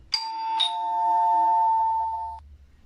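Household doorbell ringing, a loud two-tone ding-dong chime, close and alone, with the second tone ringing out for nearly two seconds before stopping.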